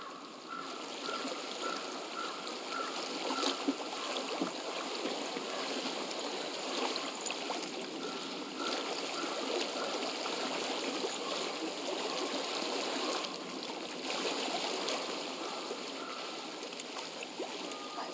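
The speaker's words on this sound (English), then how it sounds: "I hear water. Go to it." A stream flows steadily in the game Hellblade: Senua's Sacrifice, a continuous, moderately close rush and trickle of water that carries on evenly with no one speaking.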